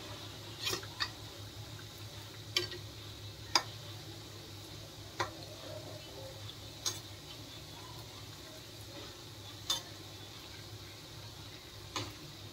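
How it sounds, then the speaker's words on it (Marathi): Snacks fry in oil in a kadhai at low heat, crackling softly with sparse sharp pops every second or two over a quiet, steady background hum. "कमी गॅसवर तळून घ्यायचे आपल्याला"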